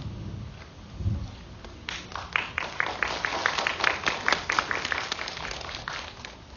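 Applause from an audience at a Korean university-admissions information seminar, a dense steady burst of many hands clapping that swells after a quiet start and carries on for several seconds in a hall.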